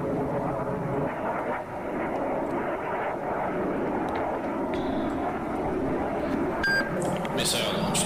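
Aircraft engines drone steadily in a naval combat video game set in a 2002 Russian campaign with the carrier Admiral Kuznetsov, with sharp electronic warning beeps near the end and some voice chatter.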